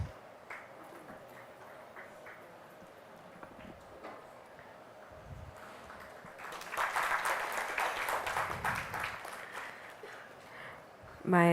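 A seminar audience at a cultural event on traditional Indian arts gives a round of clapping. It swells midway, dense and moderately loud, after quieter stretches with a voice talking over a low background.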